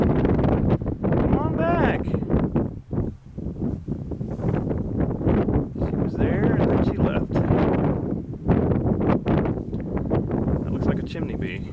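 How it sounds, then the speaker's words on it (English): Strong gusty wind buffets the microphone outdoors, giving loud, uneven rumbling bursts through the whole stretch, with rustling over it. "Okay, it's really windy, but there's a green bee."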